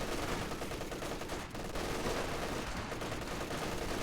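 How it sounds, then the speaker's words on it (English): An MG42 machine gun in the Company of Heroes strategy game rattles in a dense, continuous burst of rapid fire, loud and unbroken with a brief dip midway, no voices. "Ostricken pushing with the LMGs, MG42 battering the same squad"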